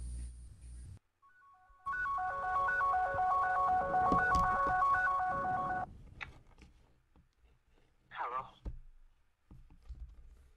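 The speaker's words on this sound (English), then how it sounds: "Lamone, I'm gonna call you, but don't answer your phone, okay?" A phone ringtone from an incoming call plays a loud repeating electronic melody for about four seconds after a short burst of sound, followed by clicks, rustling and brief voices.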